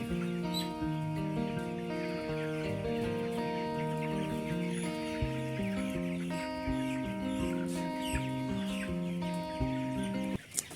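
Farm chickens, slow-growing birds being weighed, cluck and call steadily in a close, busy chorus of overlapping, rhythmic clucks lasting throughout, with no talk.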